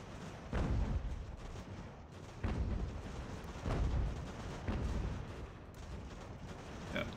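Artillery cannons firing in Ultimate General: American Revolution, a series of heavy booming shots spaced a second or two apart over continuous rumbling battle noise.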